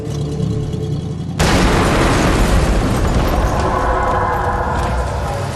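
A pickup truck explodes when its engine is started: a sudden loud blast cuts in after a quieter opening, then a dense roaring, crackling burn keeps going at full strength to the end.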